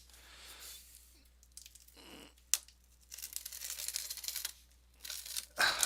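Plastic wrap and packaging being torn off a trading card case, with crinkling and ripping bursts up close, separated by short quiet gaps and a few sharp snaps.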